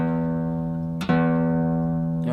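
A guitar string ringing steadily while it is tuned with an electronic tuner, its pitch sliding as the peg turns; it is re-plucked once midway and again near the end, sounding loud and close with no voices.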